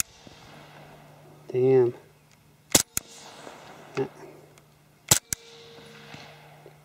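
Suppressed shots from an HK Mark 23 pistol fitted with a wet Silencerco Osprey 45, firing 230-grain rounds: a few sharp, muffled cracks spaced seconds apart, with a short spoken remark between them.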